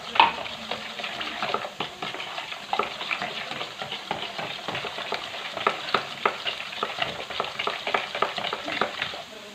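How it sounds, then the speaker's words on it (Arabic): Two forks held together and beaten by hand in a bowl while making a chilled three-layer orange cake, a fast, steady clatter of light rhythmic taps and scrapes running continuously and close, with no voices. "كنشد جوج فرشيطات بحال هكا وكنجمعهم وكنبقى نطرب"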